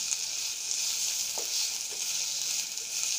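Ginger garlic paste frying in a pan, a steady high sizzle throughout with a couple of soft stirring scrapes, close and continuous with no voices.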